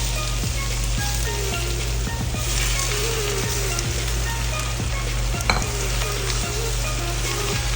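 Onions and tomatoes sauté in hot oil for kinamatisan, a steady loud sizzle with scattered stirring scrapes and small pops, no voices.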